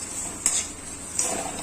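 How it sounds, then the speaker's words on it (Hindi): Masala frying in a kadhai for kareel and bhindi sabzi, with a steady soft sizzle and two sharp metallic scrapes of a spoon against the pan, close and clear with no talking. "अब इसे अच्छे से भून लेंगे हम 5 मिनट तक।"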